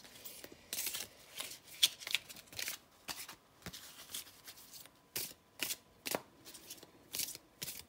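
A deck of cards shuffled repeatedly at close range, crisp riffling bursts and snaps recurring in an irregular rhythm throughout, with no speech.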